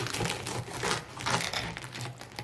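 A knife saws through crusty air-fried garlic bread, giving a steady run of loud, close crackling crunches with no talking.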